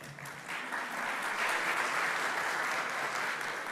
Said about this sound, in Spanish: recibimos con un fuerte aplauso al ingeniero José Gaya